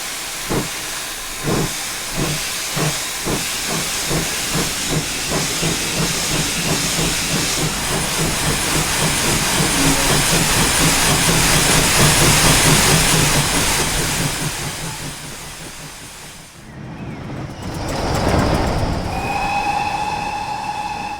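A GWR 14xx class steam locomotive from Train Simulator chuffs in a steady rhythmic beat that speeds up, then a loud hiss of escaping steam takes over before the running resumes.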